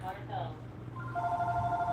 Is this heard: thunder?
no